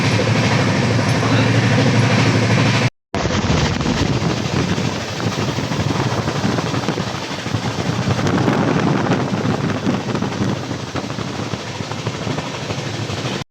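Howrah–Deoghar weekly express train running at high speed, around 130 km/h, a loud, continuous roar of wheels and rail with steady rumbling, briefly cut off by a short gap early on, with no talk.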